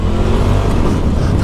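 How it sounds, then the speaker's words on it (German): A RZR buggy engine roars loud and close on a motocross track as the vehicle drifts, a continuous rough, revving growl with no pause. "Oh, kleinen Drift hier eingebaut."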